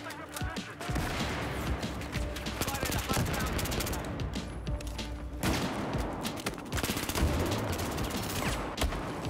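FAMAS rifle gunfire in Battlefield 4 sounds as dense, continuous automatic bursts with a loud, chattering crackle, and a voice talks over the shooting.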